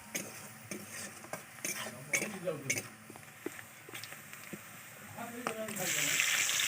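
Tomatoes go into onions frying in a pan, with a spoon scraping and stirring in repeated strokes, a soft sizzle rising toward the end and a voice speaking nearby.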